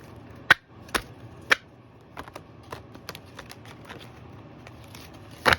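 A tarot card deck is shuffled by hand: a few sharp riffling snaps and soft card slaps spaced irregularly over a quiet room, with a louder burst near the end.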